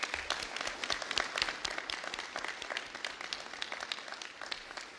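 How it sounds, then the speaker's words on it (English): A crowd applauding at a bill signing by the Illinois governor, dense overlapping clapping that holds steady for several seconds and slowly thins. "you all deserve a round of applause"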